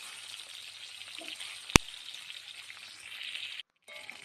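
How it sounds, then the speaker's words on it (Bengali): Hilsa fish fries lightly in oil with a soft, steady sizzle, broken by one sharp click and a brief dropout near the end. "মাছটাকে হালকা ভেজে নেবো ফার্স্টে"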